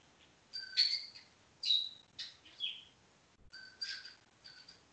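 Bird song playing in the background: repeated bright chirps and whistled phrases arrive in short bursts separated by brief pauses, moderately quiet and alone.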